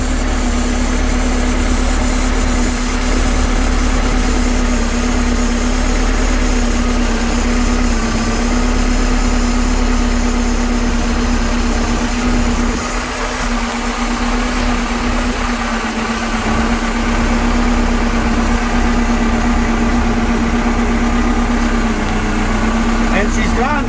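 The inboard engine of a 2012 Larson LX850 boat idles steadily after its first start in nearly eight months of storage, a loud, even hum holding the same pitch throughout.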